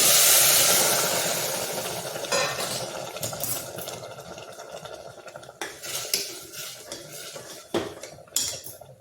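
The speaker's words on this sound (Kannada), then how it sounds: "ಇದು ಸ್ವಲ್ಪ ಕಾಯಿಸಿದ್ದೀನಿ ನೀರು ಬಿಸಿನೀರು ಹಾಕ್ಕೊಳ್ತಾ ಇದ್ದೀನಿ" Hot water poured into a pot for methi leaf pulao, a rushing splash and bubbling that fades over the first seconds, followed by metal spoon clinks and stirring knocks against the pot, close up with no talk.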